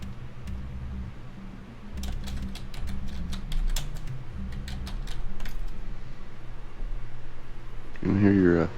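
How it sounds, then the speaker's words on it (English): Quick, irregular clicks of typing on a computer keyboard, faint bursts under a low steady hum, with a short loud noise near the end. "You can hear your keyboard."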